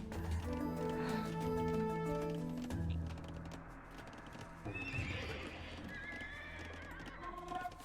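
A horse whinnies loudly from the stables in Age of Empires II, with a rising, wavering neigh followed by clip-clopping hooves and a second whinny in the background.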